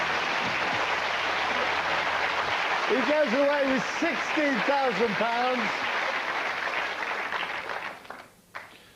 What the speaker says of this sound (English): give Kevin Wright a huge round of applause